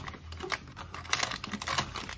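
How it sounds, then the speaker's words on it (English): Toy packaging for a beach party play set is ripped open up close, with a quick series of sharp tearing and crinkling bursts, no talking. "I'm just going to rip open into it"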